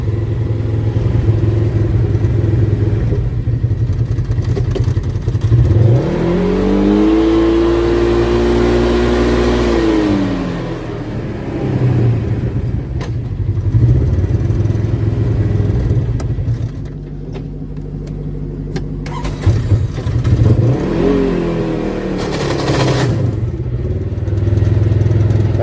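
An engine strains and revs loudly and steadily as a stuck vehicle tries to move, with the pitch rising and falling through two long surges, and no talking over it.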